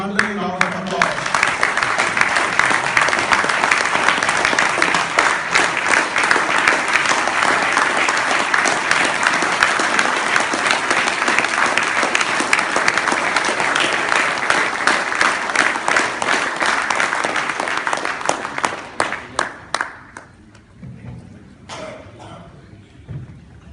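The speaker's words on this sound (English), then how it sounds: "Let's all rise to appreciate C.A. Gopal with a thundering round of applause." A standing audience at a professional awards ceremony gives a long, loud round of applause, dense and sustained for about twenty seconds before thinning to scattered claps and quiet.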